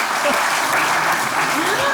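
Studio audience applause in a comedy sketch show, dense steady clapping filling the whole stretch at close range, with a few voices and a brief tonal whistle faintly audible within it.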